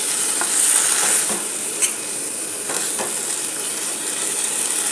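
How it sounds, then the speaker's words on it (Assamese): Rangalao leaf chutney stirred in a hot pan, a loud steady sizzle and hiss with occasional scraping strokes of the spoon, close and continuous. "এতিয়া ধুনীয়াকৈ লৰাই ল'ম"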